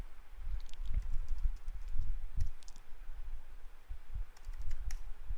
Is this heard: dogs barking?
no